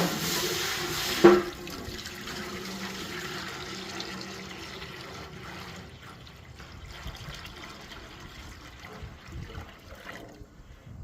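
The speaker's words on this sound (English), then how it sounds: "I'm going to add my water right now" Water gushes and pours steadily into a deep fryer, a continuous hissing splash that gradually softens as it fills.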